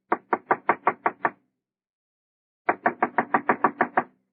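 Two bursts of sharp knocking on a door, seven raps then about eight, loud and close in a comedy sketch setting, with a pause between the sets and no talking.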